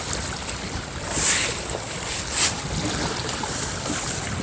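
Wind and rain buffet a seaside spot used for cuttlefish fishing, giving a steady broadband rush of gusts across the microphone with two brief brighter bursts and no talking.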